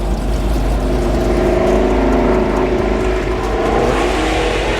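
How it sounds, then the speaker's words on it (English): A Chrysler 300 drives past on a cool evening street with a loud, throaty engine roar that stays strong and close throughout. "That was a Chrysler 300. Boy, that thing is, whew, thing sound crazy."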